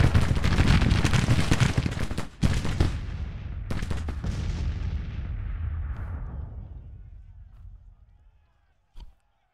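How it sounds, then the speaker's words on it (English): In a Civil War battle video game, several regiments fire rifle volleys at once. The result is a dense, roaring crackle of musketry with a few sharp surges, and it fades slowly into a long rumbling decay, followed by a final isolated shot. "Three regiments firing at the same time"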